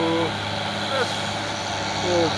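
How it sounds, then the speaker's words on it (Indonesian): Tanker truck engine labouring up a long hill grade, a steady low drone with a few brief rising tones over the top, while voices talk intermittently. "Dua unit truk tangki bosku."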